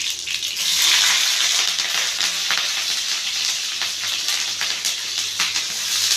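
Green chillies fry in hot oil for cabbage poriyal, giving a continuous close hiss and sizzle broken by small crackles and pops throughout.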